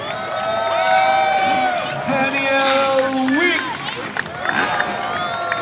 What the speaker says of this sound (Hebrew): תמחאו כפיים